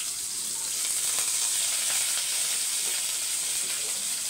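Curry leaves frying in hot oil with small onions, a steady loud sizzle and hiss close by, with faint crackles and no talk.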